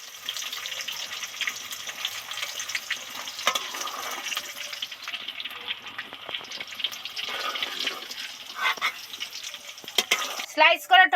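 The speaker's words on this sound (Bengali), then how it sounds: "স্লাইস করা টমেটোটা তেলের মধ্যে দিয়ে দেব" Sliced tomato frying in hot oil in a pan, cooked for a vegetarian okra dish: a steady, close sizzle and hiss runs throughout, with scraping stirs and a few sharper clicks near the end.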